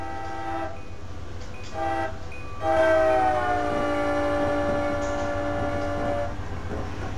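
A Metro-North train in Train Simulator approaches with its horn, a few short toots followed by a long sustained blast over a low rumble of rail noise.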